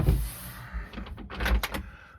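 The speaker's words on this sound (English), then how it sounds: "Just shut the door." A cupboard door in a camper van is pushed shut, making a soft scraping slide followed by a few light clicks and knocks of the latch, close and fairly quiet.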